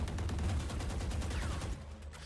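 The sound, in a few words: video game gunfire, wall bang shot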